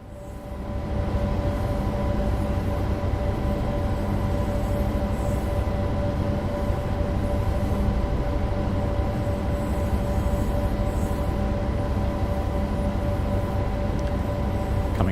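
A coal train rolls steadily in a train simulator game, with a constant low rumble and a sustained tonal hum that rise quickly and then hold level and loud.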